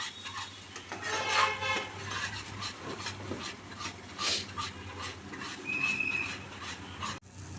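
A nolen gur sandesh mixture is stirred continuously in a pan, giving repeated soft scraping and rubbing strokes at an uneven rhythm, quiet and close, with a low steady hum beneath.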